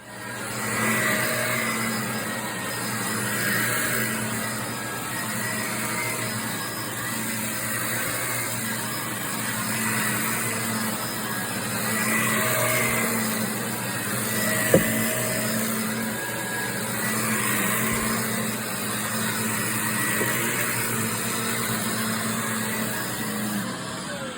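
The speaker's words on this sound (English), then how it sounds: "we're gonna vacuum this now" A vacuum cleaner runs steadily over water-damaged carpet during professional cleaning, a continuous whirring drone with a slowly swelling and fading pitch, one sharp click partway through, with no talk.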